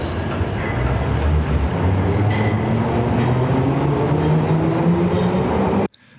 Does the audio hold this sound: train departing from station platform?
yes